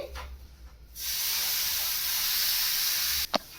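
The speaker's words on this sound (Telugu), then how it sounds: "మనం ఇప్పుడు మిల్క్ పోద్దాము, కొంచెం కొంచెం పోద్దామండి" Milk is poured little by little into hot rava frying for burfi, setting off a loud, steady steamy hiss that runs for about two seconds and then cuts off abruptly, followed by a brief clink.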